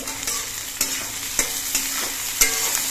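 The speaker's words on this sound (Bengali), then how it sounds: "পেঁয়াজগুলো কিছুক্ষণ ভেজে নিতে হবে" Chopped onions frying in oil with nigella seeds and green chilli in a pan, a steady close sizzle broken by several sharp scraping stirs of a spatula, with no talking.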